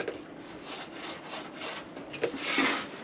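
A pencil is sketched across a wooden board while laying out a tote stool, making soft, scratchy rubbing strokes in short bursts, faint and close with no talking.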